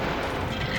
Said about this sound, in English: he just was a casualty of the bomb explosion